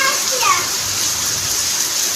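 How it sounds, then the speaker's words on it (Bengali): Rain falling outdoors, a continuous loud wash of hissing droplets with children's voices and talk heard over it. "এই কেমন দেখো বৃষ্টি পড়ছে আর চলে গেল"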